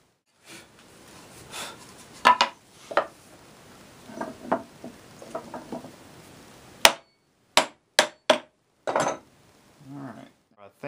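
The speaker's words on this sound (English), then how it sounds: "Take a smaller chisel and relieve the line so I can try to keep it as crisp as I can." Sharp chisel strikes cutting a relief line into the wood of a tobacco box, a run of crisp knocks and taps, several spaced apart and others in quick succession, close and fairly loud with quieter scraping between them.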